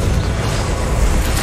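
A Confringo blasting spell goes off in the Hogwarts Legacy video game as one loud, dense burst of explosive noise that fills the whole short moment.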